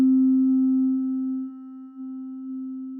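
Synthesizer sine tone passed through a delay with feedback: a single pure, steady note that holds alone, with its level dipping and swelling as the echoes pulse back in.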